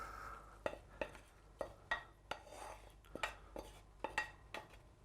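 Sautéed onions, garlic and herbs being stirred into minced venison meat for a terrine: a spoon scrapes and knocks against the bowl in irregular moist clacks, each followed by soft squelching, with nobody speaking.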